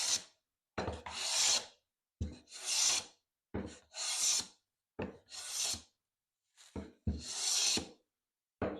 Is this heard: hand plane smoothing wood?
yes